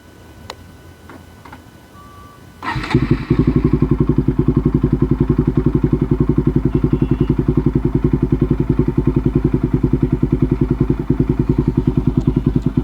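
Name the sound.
Bajaj NS200 motorcycle engine idling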